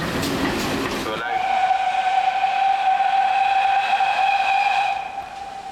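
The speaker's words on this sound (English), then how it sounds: "3205 draws its train under the station footbridge and into the platform" Steam locomotive 3205 draws its train under a station footbridge into the platform, a loud sustained whistle tone ringing steadily over rumbling wheels after a short burst of noisy exhaust at the start.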